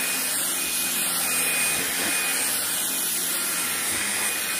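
A Dreame V11 cordless stick vacuum cleaner runs continuously with a loud, steady high-pitched whine and airy rush, broken only by faint rubbing as the brush moves over a surface.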